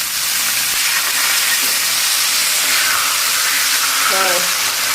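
Squid on a grill with spicy seasoning gives off a loud, steady hissing sizzle from start to finish, with a few faint voices underneath.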